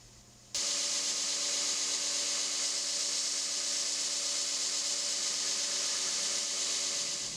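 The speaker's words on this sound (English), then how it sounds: "I'll jump back on my grinder, and using a work rest for some stability, I will start grinding the bevels to the lines that I have marked out" A grinder grinds the bevels on a small 1084 steel cleaver blade held against a work rest, a loud continuous abrasive whine that starts abruptly and holds steady, close and without talk.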